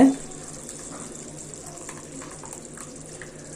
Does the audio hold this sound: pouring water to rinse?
yes